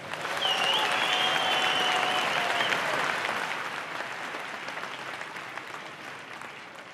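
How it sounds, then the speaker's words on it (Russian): Audience applause for two fighters, Russian and Moroccan, at a combat sports bout, a broad steady wash of clapping that swells early, holds, then slowly fades, with a faint tonal whistle-like sound near the start. "Наградите их аплодисментами"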